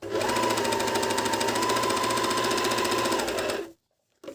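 MEDION MD10685 overlock sewing machine stitching a seam, a fast steady whirring clatter running continuously for several seconds, close and loud, then stopping abruptly.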